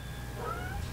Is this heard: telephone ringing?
no